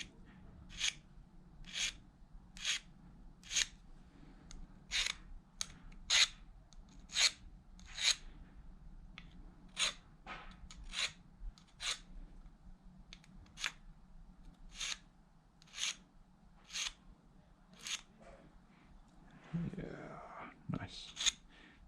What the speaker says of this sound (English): So we're taking that sort of rust off it.